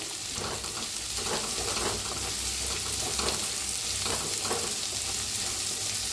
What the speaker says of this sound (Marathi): त्याच्यातच टाकूया कांदा कापून घेतलेला। याला भी भाजून घेऊया।